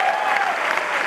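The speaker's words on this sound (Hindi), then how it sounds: "तालियां बजाओ तो अपने लिए बजाओ, दिल से बजाओ, चिल्ला के बजाओ" An audience applauds in a hall, producing dense, continuous clapping from many hands that holds at an even, loud level throughout with no gaps.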